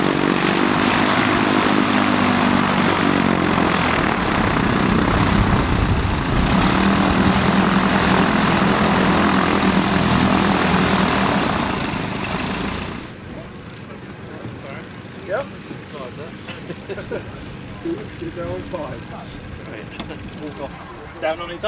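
A de Havilland Tiger Moth biplane engine runs loudly at an international moth rally at Woburn Abbey, a steady close roar that cuts off partway through, leaving quieter background noise and voices talking.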